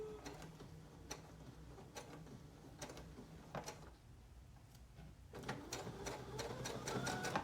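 Sewing machine backstitching fabric while sewing a tarot bag, with sparse mechanical clicks and ticks that break into a rapid, steady run of stitching near the end, close and moderately loud.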